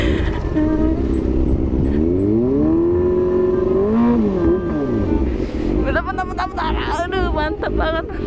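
A motorbike engine revs up and down in a series of rising and falling whines, loud and close, with people talking nearby and a faster burst of revving near the end.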